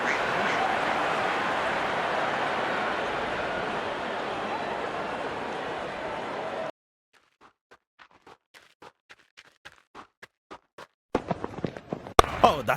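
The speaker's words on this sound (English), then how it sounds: "And there comes the celebration and the crowd loves it." A cricket crowd at an England versus Nepal T20 World Cup match roars in celebration of a wicket, a dense sustained cheer for several seconds that cuts off abruptly, followed by sparse sharp claps and knocks.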